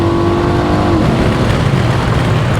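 A 1995 Impala SS with a 383 engine accelerating at wide open throttle, a loud, dense engine roar that stays steady and close for the whole stretch, with no talking.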